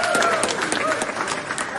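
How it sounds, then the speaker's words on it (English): A crowd at a Kwanzaa day celebration applauds warmly, dense clapping close and loud throughout, with cheers and voices mixed in. "Do we hear a warm applause for our people?"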